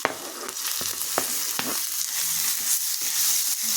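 Onion and tomato sauté in hot oil, a loud, continuous sizzle with stirring scrapes and taps near the start.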